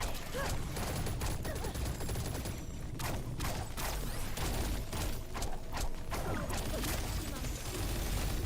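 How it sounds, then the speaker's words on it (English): Rapid gunfire bursts in the T3 Arena video game, dense and continuous through the whole stretch, with repeated rattling shots and mechanical clatter layered close and loud. "Shooting the Jabali pretty hard right now."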